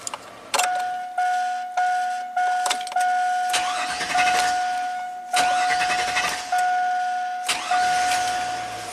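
A GM Chevy V8 with an intermittent crank-no-start fault cranks in repeated short bursts, each with a loud onset and a steady whine underneath, close and loud with no talking.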